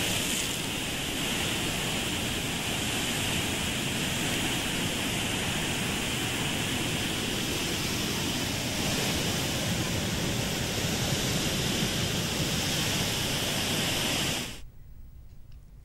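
Floodwater pours through six opened gates of the Sripada Yellampalli project reservoir dam in Peddapalli district, Telangana, released at about 72,000 cusecs after two days of rain. It makes a loud, steady roaring rush with no voices, then cuts off abruptly near the end.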